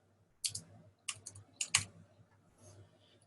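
Keys on a computer keyboard clack in a few short bursts of quick taps with pauses between, close and fairly quiet, while a suggestion is typed into a Google Docs document.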